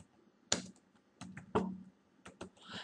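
A computer keyboard clacks as a folder name is typed, a handful of separate close keystrokes in an uneven rhythm, a couple landing harder than the rest, with no voice.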